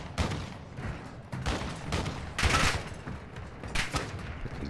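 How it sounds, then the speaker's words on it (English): Bots fire at the player in the video game Warzone 2.0 DMZ, heard as repeated bursts of gunfire with booming reports and a brief pause between volleys, fairly loud throughout. "These bots would stop shooting at me, bro."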